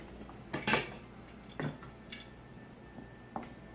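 A metal tasting spoon clinks against a dish of fermented hot sauce a few times, short sharp taps at uneven intervals over quiet room tone.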